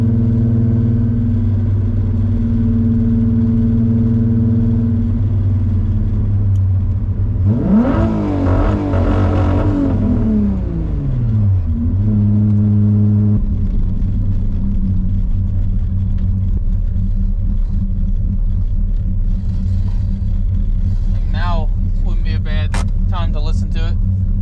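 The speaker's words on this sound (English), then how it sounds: "Let's hear what the two-step sounds like" A 12-valve VR6 engine fitted with Techtonics 288 camshafts, swapped into an MK2, holds on two-step launch control with a steady loud idle rumble, then revs up and bangs against the limiter for several seconds before dropping back to idle. Voices talk over it.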